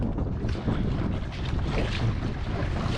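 A small boat motoring along off the Isle of Gigha in stormy weather, its engine mostly buried under heavy wind buffeting the microphone and the rush of waves.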